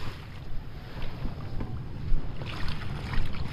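Steady low rumble of a boat on open water, with wind buffeting the microphone and faint splashing throughout.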